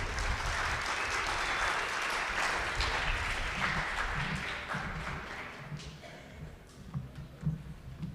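An audience at a commemorative evening program applauds steadily as the mayor comes up to speak, a dense wash of clapping that thins and tapers toward the end.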